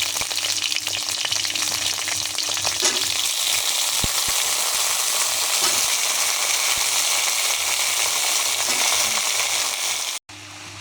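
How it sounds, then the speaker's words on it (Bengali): Cut small mangoes hit a pan of chillies fried in oil and sizzle steadily, a continuous close frying hiss with occasional stirring clinks, ending in a brief drop near the end. "কেটে ধুয়ে রাখা আমগুলো দিয়ে দিলাম"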